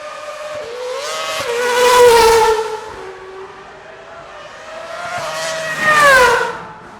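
A Lanzante Porsche 911 TAG Turbo fitted with an F1 engine passes twice on a hill-climb course, each pass a rising and falling high-pitched scream from a distance, swelling loud and then fading.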